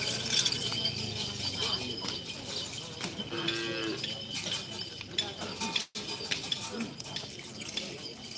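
Cattle at a karapan sapi bull race ground in Pamekasan moo repeatedly, some calls drawn out, amid crowd chatter, clinking bells and general outdoor bustle; people talk throughout.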